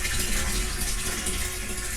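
Water pours steadily into a 55 gallon WaterPrepared emergency storage tank in a garage, a continuous close gushing fill with no talk.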